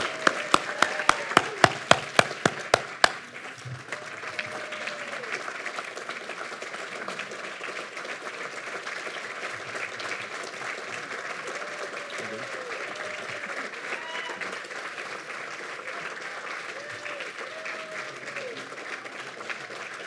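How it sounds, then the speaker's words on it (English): Audience applause at an alumni association award presentation, steady sustained clapping from a large crowd filling the hall for the full stretch, with a few sharp louder claps near the start. "I hope that you will join me in extending an Alumni Association round of applause for Tom Jorling."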